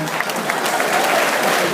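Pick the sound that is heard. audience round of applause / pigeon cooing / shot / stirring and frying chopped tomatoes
audience round of applause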